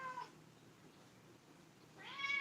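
A pet cat meows twice, once briefly at the start and again more strongly at the end, close by in a quiet room with a faint low hum in between.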